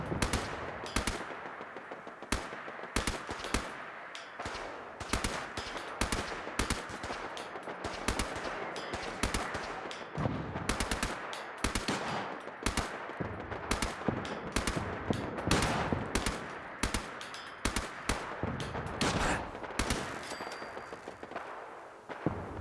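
Turrets under attack in a video game, with dense rapid gunfire crackling in bursts for over twenty seconds, loud and near, with brief gaps between volleys.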